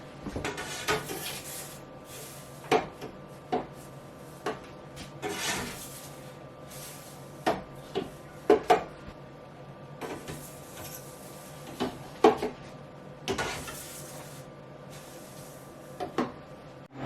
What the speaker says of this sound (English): So I'm going to go grab the trays and start loading the freeze dryer